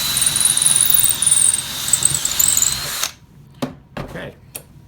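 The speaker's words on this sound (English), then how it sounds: "this is just a 1/4 inch slip drill." A 1/4 inch drill bit boring through a wooden dowel, loud and continuous for about three seconds before cutting off, followed by a few sharp knocks and handling sounds.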